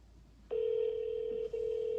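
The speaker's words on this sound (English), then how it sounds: "Now the phone's ringing." A phone on speaker ringing during a 911 call, a steady electronic tone that starts abruptly, breaks once briefly and resumes, heard close and alone.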